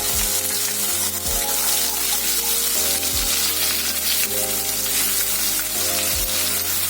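Ground spice paste sautéing in a pan for a Malvani black chickpea usal, a loud continuous sizzle with a few spatula strokes, accompanied by low steady droning tones beneath, no speech.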